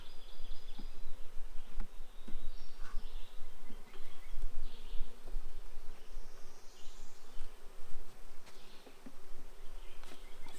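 Honey bees at an open hive during an inspection drone in a steady, dense buzz, with individual insects swelling louder as they pass close, continuous throughout.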